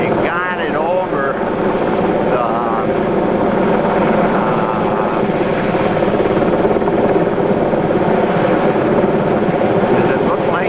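A helicopter hovers steadily while lifting an antenna by cable in Westport, Minnesota, its rotor and engine a constant loud drone for the whole stretch, with a voice talking faintly underneath.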